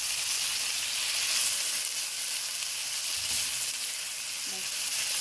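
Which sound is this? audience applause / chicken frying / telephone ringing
chicken frying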